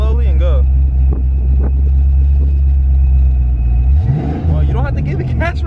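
A supercharged Fox Body Mustang idles with a deep rumble, then pulls away in first gear as the engine note rises and strains. People talk inside the car throughout.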